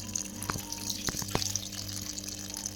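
Water draining from a Samsung top-load washing machine: a trickling flow with a low steady hum and a few sharp knocks and drips, heard close, without voices.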